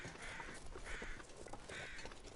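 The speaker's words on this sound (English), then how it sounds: "we'll go listen to these lovely crows sing" Crows cawing in the survival video game The Long Dark, three drawn-out harsh caws spaced across a steady wintry ambient background, fairly loud with no talk.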